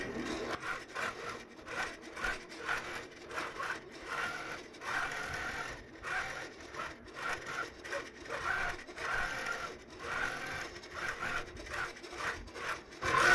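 A longarm quilting machine on a rolling rail frame stitches across a quilt, a rapid mechanical whir broken by short rhythmic pauses as it travels, moderately close.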